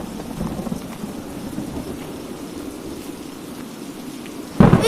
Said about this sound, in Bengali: এই ঝড় বৃষ্টিতে যদি আমাদের বাড়ি ভেঙে যায়